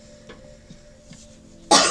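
A single sharp, chesty cough from a person with a cold close by at the very end, after a near-silent stretch.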